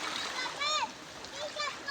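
People jump into the sea, with a few brief splashes and churning water close by, while children's voices chatter and shout over the splashing.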